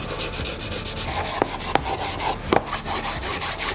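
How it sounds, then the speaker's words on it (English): Sandpaper rubs by hand over a wooden box, making rhythmic back-and-forth scratchy strokes up close, with a few sharper knocks of wood in between. "you want to give it a light sanding with a piece of sandpaper"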